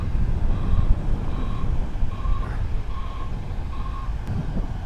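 A lorry with rear-wheel-steer trailers reverses on a farm during a crane lift, its reversing alarm sounding five evenly spaced beeps over heavy low engine rumble and wind noise.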